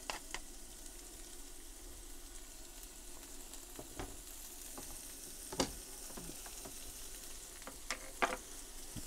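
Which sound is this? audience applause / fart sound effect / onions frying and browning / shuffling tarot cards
onions frying and browning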